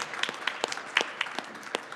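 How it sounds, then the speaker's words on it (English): A temple audience at a Sunday puja in Toronto gives a round of applause, heard as thin, scattered claps with distinct separate hand strikes rather than a dense roar, fairly quiet and without talk. "Let's give him a big round of applause"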